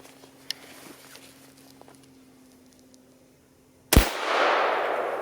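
A single loud rifle shot from a 7mm Remington Magnum firing a Barnes Tipped TSX 120 grain bullet cracks sharply after a quiet stretch, followed by a lingering rumbling echo.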